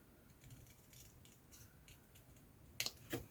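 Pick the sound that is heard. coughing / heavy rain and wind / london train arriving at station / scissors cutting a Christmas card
scissors cutting a Christmas card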